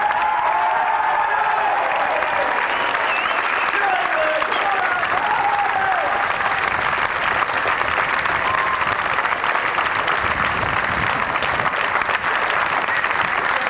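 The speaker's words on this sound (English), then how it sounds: "I think they all deserve a round of applause" Sustained applause from a large crowd at a Prince of Wales Division military pass out parade, dense, even clapping filling the whole stretch outdoors, with a few voices and faint calls mixed in.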